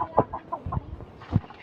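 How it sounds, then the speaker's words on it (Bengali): A 7.5-month-old rooster clucks close by in a few short, separate bursts, with quiet gaps between the calls. "এটা এই হচ্ছে আমার মোরগ।"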